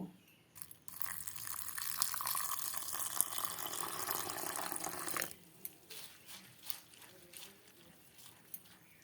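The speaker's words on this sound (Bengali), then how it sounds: "চিড়েগুলোকে জল দিয়ে 2-3 বার ধুয়ে নেব" Water pours and splashes over flattened rice (chira) being rinsed, a continuous close gush for several seconds, followed by soft wet crinkling and handling sounds.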